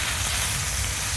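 Fish frying on a tawa, a continuous dense sizzle and crackle of hot oil heard up close and steady throughout.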